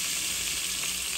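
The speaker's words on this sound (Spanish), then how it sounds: "El sofrito de ajo, cebolla." A sofrito of garlic and onion frying in a pan, a steady, close, hissing sizzle that fills the whole short moment.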